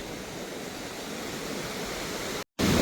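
Sea waves wash onto a beach in a continuous, broad roar of surf, steady and fairly loud with no voices, broken by a brief moment of silence near the end.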